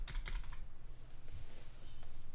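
A few quick, faint keystrokes on a computer keyboard, followed by a brief quiet stretch and one final tap.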